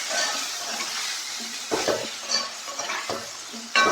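Coriander and chili powder frying in hot oil for a crab roast sizzle steadily while a spoon stirs and scrapes the pan with several clinking knocks, close and loud with no talk.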